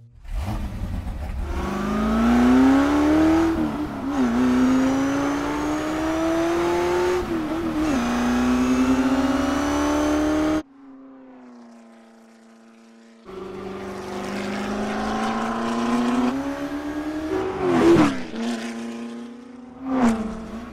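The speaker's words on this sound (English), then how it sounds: "So here's some of the car by itself." A race car engine from the film Ford v Ferrari revs loudly, pitch climbing and dropping through repeated gear changes, briefly easing to a low idle before roaring up again.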